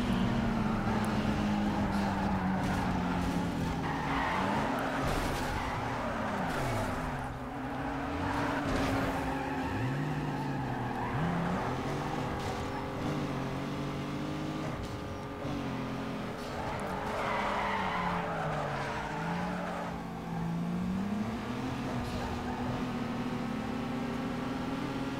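Continuous engine roar and drawn-out tire squeal from cars drifting in the racing video game Need for Speed Underground 2, with the engine pitch sweeping up and down through repeated slides over steady, loud game sound.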